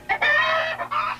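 Chickens from a truckload of birds cluck and squawk loudly and close, in a dense burst of overlapping calls with brief pauses.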